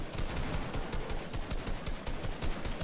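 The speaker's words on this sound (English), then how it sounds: "I'm getting shot because I've got no weapon." Rapid, dense bursts of automatic gunfire in the Fortnite video game, a loud continuous rattle of repeated shots with no voices heard.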